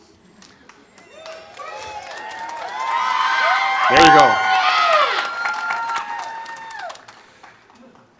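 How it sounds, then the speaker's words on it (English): An outdoor commencement crowd cheers and claps, with whoops and shouts swelling to a loud peak mid-clip before fading; a voice speaks briefly over the noise. "We can yell and clap all we want."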